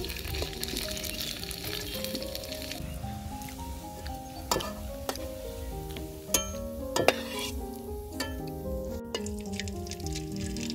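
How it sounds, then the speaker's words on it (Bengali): Bangladeshi pitha rice cakes frying in hot oil, a dense continuous sizzle with scattered metallic clinks and scrapes of a utensil against the pan, close and unbroken by speech. "এইভাবে আমি সবগুলা পিঠা ভেজে নিমু"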